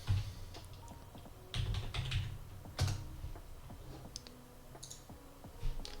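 Fast bursts of computer keyboard typing entering a layer name, light clicking keystrokes in short clusters with pauses between, close and fairly quiet.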